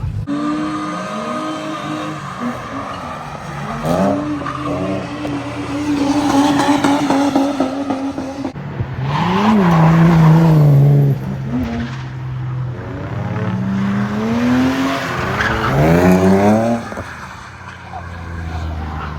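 Drift cars, Holden and Ford, roar past one after another on a race track, engines rising and falling in pitch as they sweep by, loud and close with tire noise between passes.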